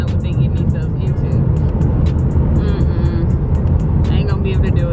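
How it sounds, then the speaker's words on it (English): Heavy highway traffic makes a loud, continuous roar of passing cars, heard from close by, while people talk over it. "Literally, traffic going crazy."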